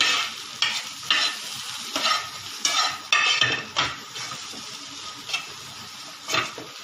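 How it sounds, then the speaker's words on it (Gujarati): A spoon stirs turmeric and coriander-cumin powder into a hot pan of sizzling oil, with repeated scraping strokes in an uneven rhythm over a steady fry, close and clear with no voices. "1/2 ટેબલ સ્પૂન હળદર, 1/2 ટેબલ સ્પૂન ધાણા જીરું નાખીને હલાવી દેવાનું"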